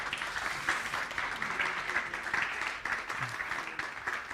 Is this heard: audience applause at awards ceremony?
yes